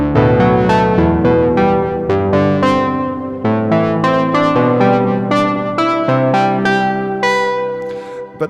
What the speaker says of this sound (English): Let's just open the first sound, which is called Memory of Bob.